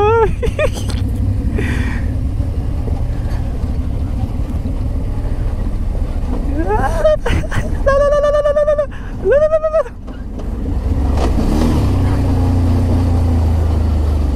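A vehicle engine braking on a steep downhill during an adventure ride gives a continuous low rumble that dips and swells, with high chirping tones over it.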